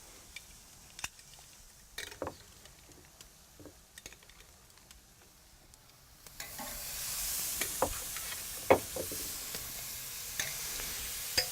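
Steaks and shrimp on a Primo grill set up for two-zone cooking: quiet clicks and handling noises, then a steady sizzle swells up as the food lands, with scattered taps and clanks over it.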